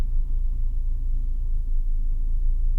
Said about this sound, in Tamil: ஈஸியாக 4 வீல் டிரைவ் லோவில் வந்து அந்த எனர்மோஸ் அமௌண்ட் ஆஃப் டார்க்கில் வெஹிக்கிள் எப்படி ஒரு 3 கிலோமீட்டர் ஸ்பீடில் நமக்கு வந்து கிளைம் பண்ணிட்டு போகுது